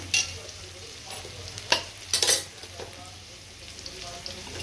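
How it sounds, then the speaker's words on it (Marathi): Onion sautéing in a pan, heard as a low steady sizzle under scattered clinks and scrapes of a spoon stirring against the metal. "कांदा चांगला परतू देते"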